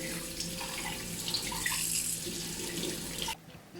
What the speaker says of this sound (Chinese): 然后开着水龙头充分清洗干净